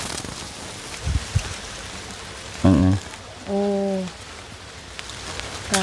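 Steady rain falls on a farmstead in the Cambodian countryside, a continuous hiss of drops broken by a few brief voices and a couple of knocks.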